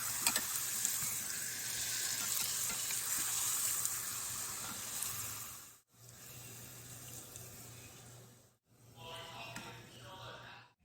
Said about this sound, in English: you flip it over and you fry it until it's completely browned